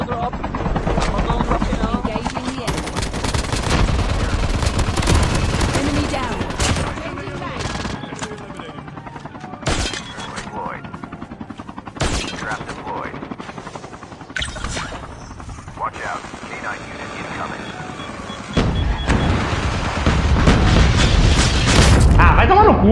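Gunfire and explosions in a tactical squad shooter game, with bursts of automatic fire, booms and a helicopter rumble, loud at the start and end and quieter in between, while players talk over it.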